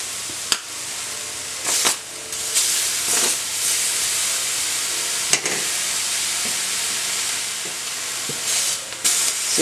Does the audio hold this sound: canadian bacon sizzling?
yes